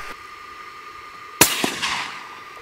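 A single gunshot fired through a see-through suppressor: one sharp, loud crack with a brief fading tail, followed by a couple of smaller clicks and rustles.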